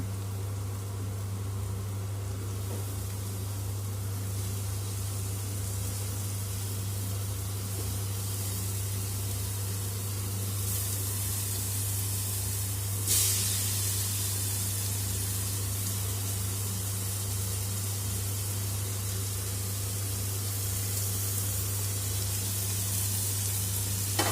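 Tomatoes sautéing in a pan for Tamil-style prawn gravy (iral thokku), a steady broadband sizzle with soft stirring scrapes and a low hum underneath, continuous and close with no voices.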